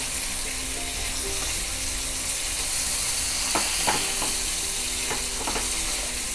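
Paneer pieces frying in butter with salt over high heat, a dense continuous sizzle with intermittent spatula stirring and scraping, close and loud, no voices.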